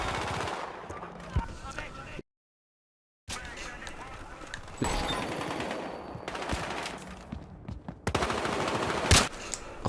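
Gunfire in the multiplayer video game Battlefield Hardline, with an R700 LTR sniper rifle used at long range, comes as sharp, loud bursts and shots with a brief silent gap and busy battle noise between.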